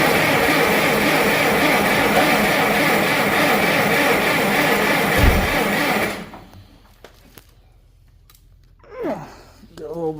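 An old tractor on a weak battery, the 504, in freezing cold, roars loudly and steadily for about six seconds before cutting out, followed by quiet clicks and a short vocal sound.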